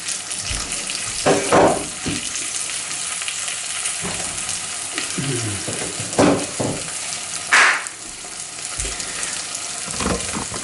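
Oyster mushrooms (Pleurotus ostreatus) fry steadily in a pan, a continuous close sizzle with a few louder crackling bursts and clatters of stirring, no voices.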